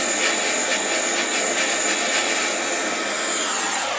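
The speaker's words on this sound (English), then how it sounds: "For bending the wales, I use this piece of tube and my Benzomatic torch" A Bernzomatic torch roars with a steady, loud, breathy hiss while it heats a metal tube used for bending wet wooden planks. The flame sounds constant and close throughout, with no voices.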